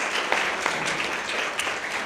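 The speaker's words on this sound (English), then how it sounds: "Give me a round of applause." A seated audience gives a round of applause to a panel at a family planning conference in Ethiopia, a steady wash of many hands clapping at moderate level throughout.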